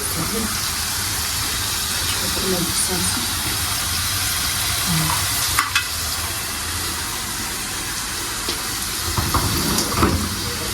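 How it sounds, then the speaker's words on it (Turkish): Meatballs fry in a pan in a home kitchen, giving a steady broadband sizzle and hiss that runs throughout, with occasional clinks of utensils and faint background voices. "Köfteleri de şöyle tavaya koyduk. Onlar da kızarmaya başladılar."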